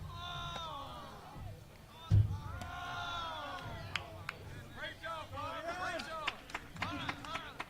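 Kempner baseball players cheer their assistant coach from the dugout during a high school game against Randle, a lively mix of overlapping shouts and whoops with a few sharp claps and thumps.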